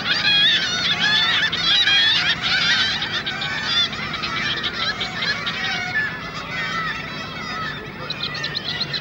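Kittiwake colony calling from narrow ledges of an old Gateshead warehouse, a dense loud chorus of overlapping shrill cries throughout.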